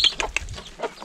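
Chickens cluck in short bursts around a duck on a rural farm, several nearby calls spaced through the moment with soft background noise.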